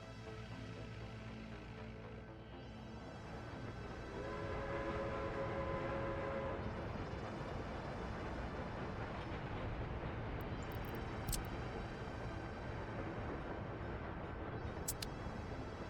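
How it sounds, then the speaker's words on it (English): Small BR80 shunting locomotives rumble along in a railway-building video game, a steady low mechanical drone that swells after a few seconds, with faint high whistle-like tones near the end. "Oh, we got the BR80s now. Excellent. Small shunting locomotives."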